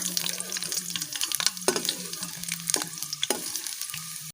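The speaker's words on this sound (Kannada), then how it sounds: "ನೆಲಗಡಲೆಯನ್ನು ನಾವು ಚೆನ್ನಾಗಿ ಫ್ರೈ ಮಾಡಿಕೊಳ್ಬೇಕು" Peanuts fry in a pan with a steady close sizzle, broken by several louder scraping stirs of a spoon against the metal; no one speaks.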